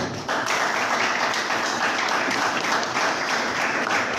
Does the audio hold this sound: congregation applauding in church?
yes